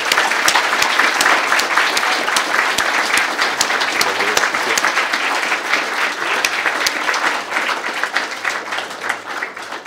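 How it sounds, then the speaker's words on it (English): An audience gives a loud, sustained round of applause after an evening public lecture on the impact of volcanoes, dense clapping filling all ten seconds and easing slightly toward the end. "A warm round of applause"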